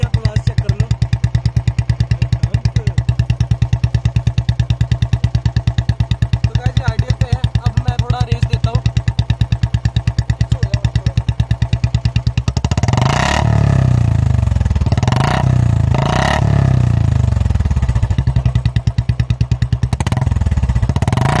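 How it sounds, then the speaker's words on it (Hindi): A Royal Enfield Bullet Classic 350 BS6 fitted with a short bottle exhaust thumps at idle in a steady rapid beat, then is revved hard several times with rising, throaty bursts, close and loud. "तो गाइस अभी हम अपनी बुलेट को स्टार्ट करते हैं।"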